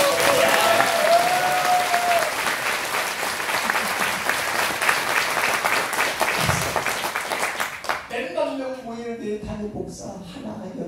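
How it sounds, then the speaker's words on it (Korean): Audience applause for a pastor at a church praise concert and revival meeting, dense steady clapping from a crowd that fades out after about eight seconds, leaving someone speaking alone. "그래서 목사님 향해서 박수 한번 쳐주세요."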